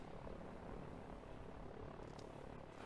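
Helicopters in the Line War strategy game give off a steady, dense droning rotor and engine roar that holds at an even level throughout, with no talking over it.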